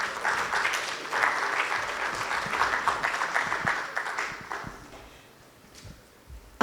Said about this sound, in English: If we could please give them a round of applause as they come onto the stage